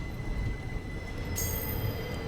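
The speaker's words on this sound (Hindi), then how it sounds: "यहाँ एक्चुअली में हम लोग की अभी क्रॉसिंग हो रही है" Bandra Terminus–Jamnagar Humsafar Express hauled by a WDP4 locomotive passes during a crossing at a station without semaphore signals, a continuous rumble of wheels on rails with a sharp metallic screech near the end.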